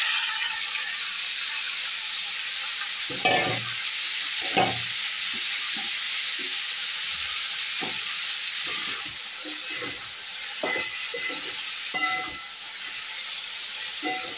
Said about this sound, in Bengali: এবার আমার এই যেটা আমি সেদ্ধ করে রেখেছিলাম সবজিটা আমি দিয়ে দিলাম।